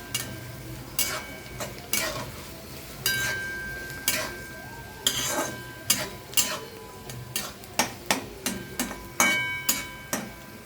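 Pohe being stirred and mixed in a pan, the spoon scraping and tapping the metal in a steady series of short, evenly spaced strokes with a faint sizzle underneath.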